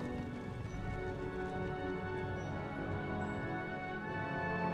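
Steady rain falls over a battlefield in Empire: Total War, a soft even patter without pauses, faint and uninterrupted, with no voices.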